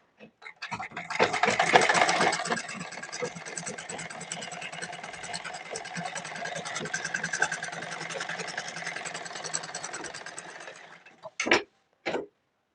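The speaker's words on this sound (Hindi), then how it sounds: "यहाँ पे थोड़ा सा हम मार्जिन रखते हुए सिलाई लगाएंगे" A sewing machine stitches blouse fabric in one long, steady whirring run with a fast needle rhythm, close and fairly loud, followed by two short bursts after it stops.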